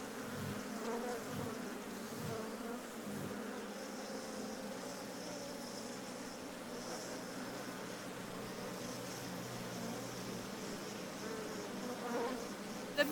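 Bees drone around a hive being gently smoked, forming a steady, mid-pitched buzzing hum that persists throughout at moderate loudness, with a few soft low thumps early on.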